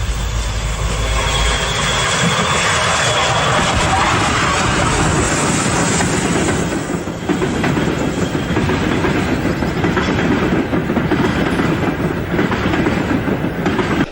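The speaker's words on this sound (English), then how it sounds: "At Oxenholme, Britannia Pacific Sir Christopher Wren, again braking hard with a passenger service from the north." At Oxenholme, a Britannia Pacific steam locomotive brakes hard while hauling a passenger train. Loud, sustained rumbling and grinding is heard with a rhythmic clatter of carriages passing close by, and no voices.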